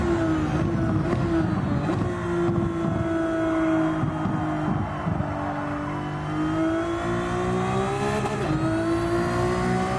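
Race car engine in Gran Turismo 7 revving hard and steadily accelerating, a loud continuous whine climbing in pitch across the lap with a brief dip where a gear shift is missed, no talking.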